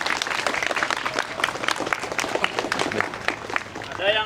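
A primary school class claps together in a classroom, quick dense applause with children's voices mixed in and a brief squeaky sound at the end.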